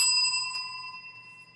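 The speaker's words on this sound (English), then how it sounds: "Let's ring the bell for Ron." A small bell is rung once in celebration during an online evening detox class, its bright metallic ring decaying slowly and evenly, alone without talk.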